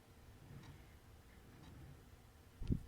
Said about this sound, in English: this clock I have is tremendously loud